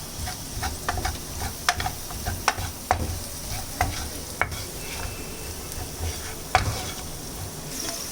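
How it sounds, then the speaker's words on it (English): Aloo tikki spices get mixed in a sizzling pan, with a spoon scraping and tapping in a steady irregular rhythm over a constant close frying hiss. "Again mix it nicely."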